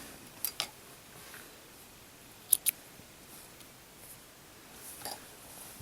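Scissors snip crochet yarn after fastening off a cable stitch hat, a few short quiet crisp cuts in pairs with near silence between.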